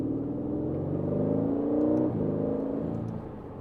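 A 2023 Aston Martin Vantage with a hand-built British V8 revs steadily, the engine note rising and then easing off near the end, loud and close with no speech.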